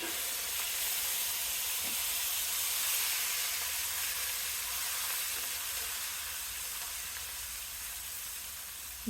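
Onion paste frying in a pan with whole fennel seeds and bay leaves gives a steady, even sizzle and hiss that holds at moderate loudness throughout.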